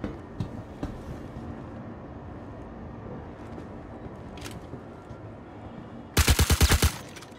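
Gunfire in the shooter Star Citizen: a quiet stretch of faint ambience, then near the end a loud, fast burst of about ten close automatic shots.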